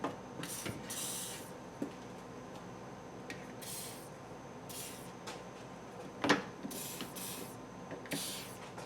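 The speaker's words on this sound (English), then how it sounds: "Other thing I'm gonna do is spray it with some of this lubricant." Aerosol lubricant sprayed in several short hissing bursts while a trailer hitch is fitted to a Chevrolet HHR, quiet and close, mixed with occasional metallic clunks and rubbing, no talking.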